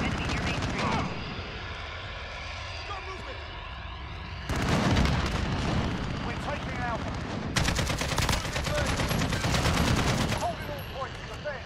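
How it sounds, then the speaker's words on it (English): Rapid automatic gunfire rattles in bursts during a Modern Warfare gun game and team deathmatch, loud close shots alternating with quieter stretches and distant pops, with talk heard over it. "I was shooting at the woods, so I couldn't get it."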